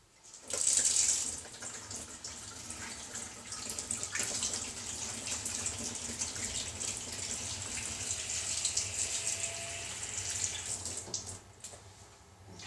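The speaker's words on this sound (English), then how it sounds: "I'm just going to wash my hands" A kitchen tap runs steadily while hands are washed beneath it during burger cooking, a close, continuous rush of water lasting about twelve seconds with no talking.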